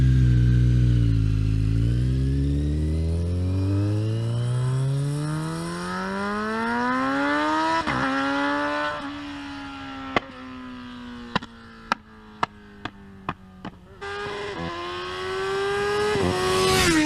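A Kawasaki Z900 motorcycle engine revs up through rising gears, winding higher in long climbs, then crackles with sharp pops and bangs on deceleration before surging again, loud and close.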